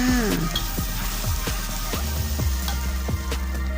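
Bamboo shoots with egg and green onion are stir-fried in a pan: constant close sizzling punctuated by rhythmic scraping strokes of the spatula, with no talking.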